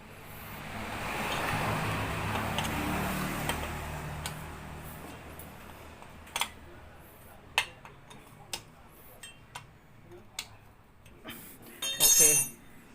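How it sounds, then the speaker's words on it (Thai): Clicking from a Honda Dream 100 engine whose kick-start gear is out of position, heard as a string of sharp, separate clicks after a stretch of steady background hiss, with a louder cluster near the end. "ที่มันดังแก๊กๆนี่มันดังมาจากอะไร เฟืองฮันสตาร์ทเฟืองฮันสตาร์ทมันยังไม่ได้ตำแหน่งมันนะครับ"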